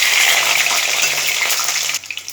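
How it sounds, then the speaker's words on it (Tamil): A handful of peeled garlic cloves goes into hot oil with spluttered mustard seeds and spices for garlic kuzhambu, giving a loud, dense frying hiss that drops off sharply near the end. "ஒரு கைப்பிடி அளவு பூண்டு உரித்து வச்சுருக்கேன் அதை அப்படியே போட்டுக்கிறேன்"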